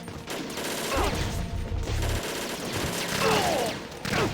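Rapid bursts of P90 gunfire from Tengu soldiers in Metal Gear Solid 2 crackle amid game effects, with moderate loudness and short gaps between volleys.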